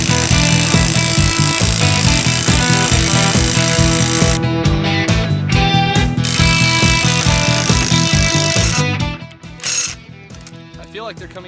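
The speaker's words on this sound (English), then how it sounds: "we are railing on this thing with an impact wrench" An impact wrench hammers in rapid rattling bursts as it drives the screw of a giant C-clamp in a mechanics shop. The clatter runs loud and steady for about nine seconds, then cuts off, followed by a brief short burst.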